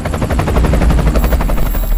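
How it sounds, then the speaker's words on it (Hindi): Two helicopters hover at low altitude over a compound in Abbottabad at night, their rotors throbbing in a steady, rapid beat over a deep, loud drone that stays constant and close with no voices. "रात गहरा चुकी है, पूरा शहर नींद की आगोश में है और तभी 2 हेलीकॉप्टर एबटाबाद की इस गुमनाम हवेली पर"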